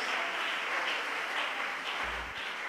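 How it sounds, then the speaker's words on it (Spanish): Church audience applauding for Jesus Christ, an even, continuous patter of many hands at moderate loudness, heard alone without speech. "Dele ese aplauso al Señor Jesucristo."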